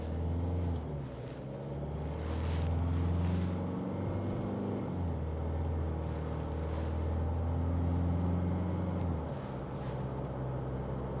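A car engine with a manually shifted transmission revs up steadily, dropping and climbing in pitch as it shifts through gears, including fourth and fifth straight into third, loud and close with no talking.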